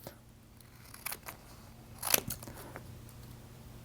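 Scissors snip and trim heat transfer vinyl in a few quiet, crisp cuts, with soft handling noise between them.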